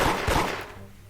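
Close gunfire in a video game gives a loud, dense rattle of rapid shots at the start, quickly fading into a muffled rumble.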